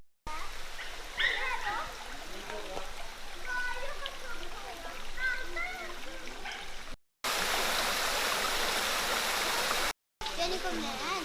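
Water rushing and splashing at a thermal bath at Bagni di San Filippo in Tuscany, a steady stream-like roar with distant voices and birds mixed in, cut by brief gaps.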